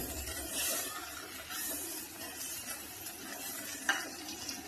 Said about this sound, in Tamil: நல்லா வதங்கட்டும் நல்லா காய் வதங்கட்டும்